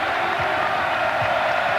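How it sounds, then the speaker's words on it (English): Steady, broad roar of a packed basketball arena crowd at an Arizona versus UCLA college game in 1991, continuous and moderately loud with no distinct peaks. "Crowd roaring, as you can certainly hear."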